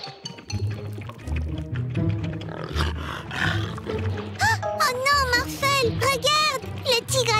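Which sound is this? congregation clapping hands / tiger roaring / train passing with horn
tiger roaring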